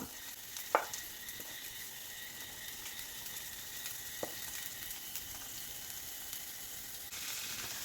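Beetroot thoran tipped into browned garlic in a pan over full flame, giving a steady soft sizzle with occasional sharp clinks of a spoon against the pan.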